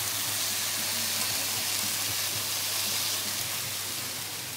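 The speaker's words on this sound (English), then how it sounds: "I'm flipping it. I'm cooking." Food sizzling steadily in a frying pan as it is flipped, a continuous close hiss with a low hum beneath and no talk.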